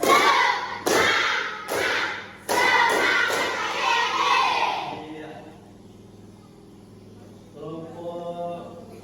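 A classroom group doing a rhythmic tepuk semangat spirit clap, several sharp, loud unison claps in a quick patterned sequence, then fading into quieter room sound and a brief voice.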